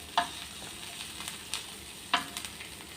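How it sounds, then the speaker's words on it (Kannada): Mustard seeds sizzle and pop in hot oil in a pan. A quiet frying hiss runs throughout, broken by a few sharp crackling bursts spaced about a second apart, with no voices. "ನಂತರ ಇನ್ನೊಂದು ಕಡೆ ಫ್ಯಾನಲ್ಲಿ ಸ್ವಲ್ಪ ಎಣ್ಣೆ ಹಾಕಿ ಇದಕ್ಕೆ ನಾವು ಸಾಸಿವೆಯನ್ನು ಹಾಕೋಬೇಕು"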